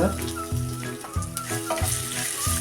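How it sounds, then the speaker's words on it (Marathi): Garlic, sesame seeds, cumin and asafoetida roast in oil in a pan with a continuous close sizzle. Steady stirring scrapes sound under a tonal background hum. "तीळ आणि जिरे आपण हे एक मिनिटभर असे भाजून घेऊया त्यात टाकूया हा लसूण आणि हिंग"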